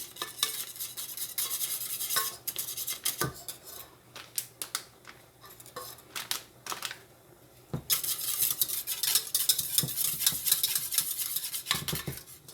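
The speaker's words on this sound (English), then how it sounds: "Whisking it at the same time because we don't want no lumps in it" A whisk working through country sausage gravy to break up lumps, rapid scraping and clattering against a metal pan in bursts, with a brief pause midway before vigorous stirring resumes, close and fairly loud.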